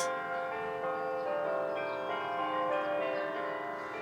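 Bell-like chimes ring with sustained, overlapping tones in a gentle, faint, continuous wash, with no speech.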